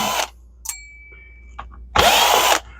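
A power drill drives out screws on the handle of a lightweight upright vacuum cleaner, with two short bursts of motor whine separated by quiet clicks and a faint steady tone.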